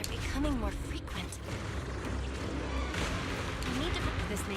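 Blasts from a pulsing cocoon in the video game Zenless Zone Zero rumble through a dense, continuous wall of low booming and mechanical creaking, with a few rising whistle-like tones above it.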